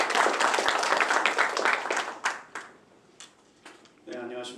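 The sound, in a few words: audience applause welcoming a speaker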